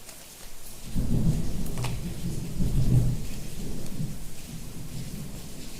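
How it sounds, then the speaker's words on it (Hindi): Heavy rain pours steadily with low rolling thunder rumbling beneath it, swelling and fading over several seconds, with no voices. "बारिश रुकने का नाम नहीं ले रही"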